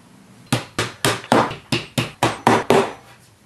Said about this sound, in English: we're going to go ahead and hammer in these nails